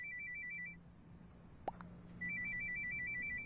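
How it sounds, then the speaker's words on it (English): A phone text message alert sounds as a quick repeated electronic beeping pattern, fairly clear, playing for under a second, pausing, then repeating over a low background hum with a brief click in between. "now he receives a text that can only be from her"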